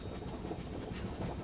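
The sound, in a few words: Mandovi Express train running on Konkan Railway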